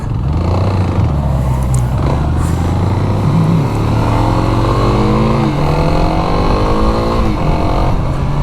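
A Kawasaki KLX 300 SM supermoto motorcycle accelerates hard up through the revs, its engine note climbing steadily and loud and close for several seconds, with no talking over it.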